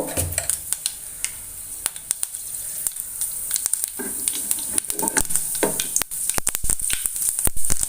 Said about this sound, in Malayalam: കടുകും ഉലുവയും ഒന്ന് പൊട്ടി കഴിഞ്ഞതിന് ശേഷം